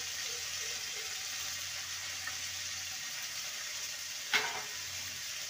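Drumstick vegetable pieces fry with a steady, soft sizzle while being stirred in a pan, with one brief scrape partway through, no talking.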